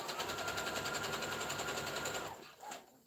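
Sewing machine stitching a hair bonnet, a fast steady mechanical whir of rapid needle strokes running loud and close for over two seconds before stopping, then a brief short burst near the end.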